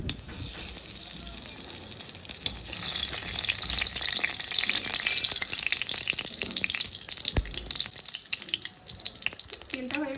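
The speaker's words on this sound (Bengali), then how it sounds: "কড়াতে একটু সামান্য পরিমাণে তেল দিয়ে দিব তেজপাতাটা দিয়ে দেবো" Bay leaf frying in a little oil in a wok, an irregular sizzle and crackle with some watery spitting, close and moderately loud, building in the middle and easing toward the end.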